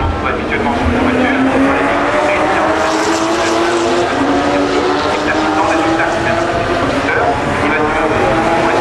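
Porsche Carrera Cup race car with a six-cylinder boxer engine at Le Mans, a loud sustained engine roar with rising and falling pitch, under continuous commentary.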